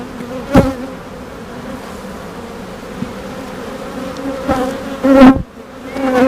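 Honeybees buzz during a hive inspection as they bring in nectar: a steady mid-pitched hum, with a few louder bees swooping close to the microphone in brief bursts and no voices.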